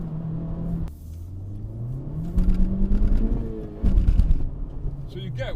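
A car accelerating hard with wheel spin on a wet, slippery road, its engine rising in pitch through revving surges with louder bursts near the middle, while someone talks over it.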